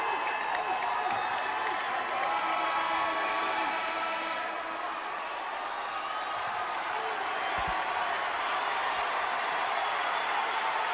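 A high school basketball crowd cheers and applauds in a gym, a steady, fairly distant wash of clapping and voices that holds a constant level throughout, with a brief thump partway through.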